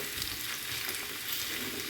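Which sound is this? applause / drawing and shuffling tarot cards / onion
onion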